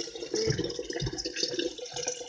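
Cold water runs steadily from a kitchen tap to fill a vessel for tea, splashing in an uneven rush for a couple of seconds.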